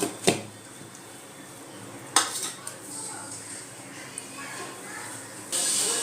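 A lid is set on a cooking pot of katla fish in coconut milk, giving a sharp metallic clank, with lighter utensil clinks and a faint kitchen hiss around it and no clear talk.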